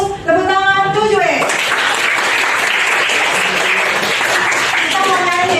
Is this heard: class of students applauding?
yes